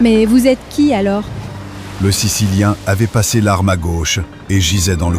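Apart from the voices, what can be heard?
None of the usual background noises is heard.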